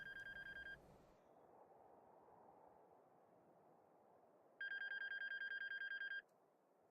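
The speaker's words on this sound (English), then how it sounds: "A phone." Telephone ringing in the video game Shipwrecked64: two bursts of bright, trilling electronic bell rings, one at the start and a longer one near the end, over a low ambient game hum.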